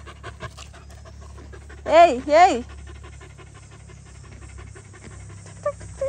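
A village dog pants in quick rhythmic breaths close by, with two short bursts of a person calling out to it in the middle.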